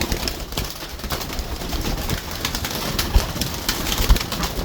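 Several Chinese pigeons coo softly and repeatedly at close range amid a steady background hum, with no voices.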